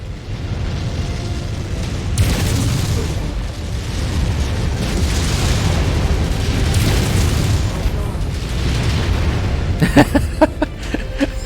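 A mech explodes in MechWarrior 5: Mercenaries with heavy, rumbling booms rolling over a dense battle din, and a sharper crackling burst near the end.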